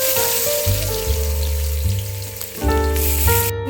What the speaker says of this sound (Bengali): গাজরগুলো আমার ভাজা হয়ে গেছে